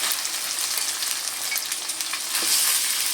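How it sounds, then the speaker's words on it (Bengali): Chicken pieces frying in a pan over a fried onion spice paste, a steady close sizzle with faint stirring scrapes, no talking. "চিকেনটা আমি এক এক করে এই পেঁয়াজের মশলার উপরে দিয়ে দিচ্ছি।"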